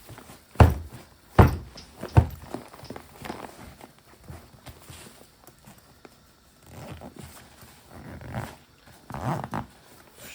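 Three sharp barks from dogs, Griffon puppies, near the start, then quieter shuffling, padding and faint movement.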